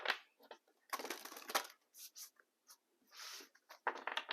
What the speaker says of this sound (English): Alrighty, let's do some shuffling.